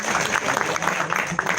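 An audience claps during a live event with a Kano radio host, a dense, steady patter of many hands lasting under two seconds at a moderate, close level.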